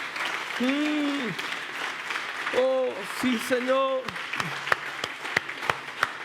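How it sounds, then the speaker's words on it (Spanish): Church congregation applauding during a worship service, a steady broad wash of clapping running throughout, with a voice speaking and chanting over it and a few sharper claps standing out near the end. "Den una ofrenda de aplausos al Rey."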